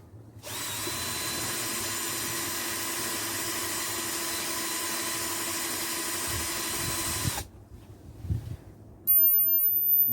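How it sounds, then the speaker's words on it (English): A power drill whines steadily for about seven seconds while drilling holes in a plastic bucket, then cuts off, followed by a few light knocks and handling sounds. "I'm going to use this drill to make a few holes in the bottom"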